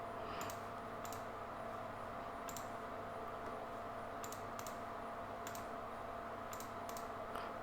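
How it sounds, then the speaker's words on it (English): A computer mouse clicking while copying an image link, a series of soft, sharp clicks spaced irregularly over a steady faint background hiss. "I have to click it here, and I right click, copy image link."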